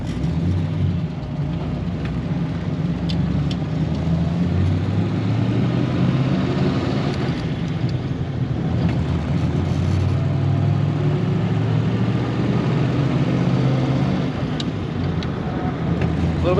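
Inside a 1938 Ford Deluxe Sedan with a flathead V8 on the move, the engine drones low and steady with road rumble, rising in pitch as it accelerates, and no talking.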